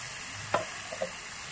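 Cauliflower frying with spices in oil in a pan, a soft steady sizzle with a couple of brief stirring knocks, close and quiet, without speech.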